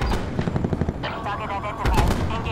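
Rapid machine-gun fire from a combat drone during an engagement, a dense run of sharp bursts close and loud over about two seconds, with a heavier burst near the end and a robotic voice speaking underneath.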